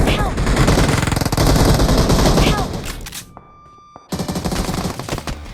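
Rapid bursts of gunfire from the game BGMI (PUBG Mobile) crackle loudly, then cut to a brief quiet pause before the shooting resumes, with voices faintly under it.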